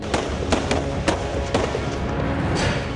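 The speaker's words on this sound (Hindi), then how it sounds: "दनादन गोलियां क्यों चला रहे हैं ये जवान?" Sharp gunshots from Indian soldiers' rifles crack out one after another at irregular intervals over a steady noisy background, loud and fairly close.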